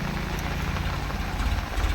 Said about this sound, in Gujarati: ટ્રેક્ટર જાય છે અત્યારે